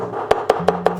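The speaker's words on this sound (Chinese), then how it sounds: "先把胡萝卜切片" A knife slices a carrot on a cutting board with four crisp, evenly spaced chops in about a second, close and distinct.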